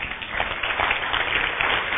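A church congregation applauds God at a preacher's urging during a sermon on essential church doctrines, giving a dense, steady wash of many hands clapping with faint crowd voices mixed in.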